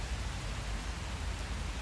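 Heavy rain falling under trees, a dense steady hiss of drops spread evenly across the whole stretch, loud and constant with no gaps and no voices.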